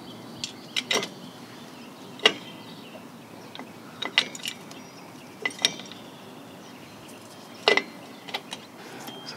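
Metal parts click and clink in sparse, uneven bursts as a pin is worked into a Toyota Yaris rear brake shoe. The sounds are close and faint against a quiet background.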